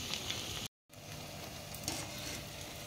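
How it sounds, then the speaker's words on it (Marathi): Vadas sizzle steadily in hot oil, a dense crackling hiss at even level with a brief dropout partway through. "आता आपण एक साइड व्यवस्थित तळून घ्यायची आहे।"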